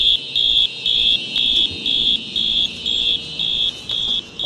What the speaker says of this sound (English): I burned the Twinkies and set off the fire alarm.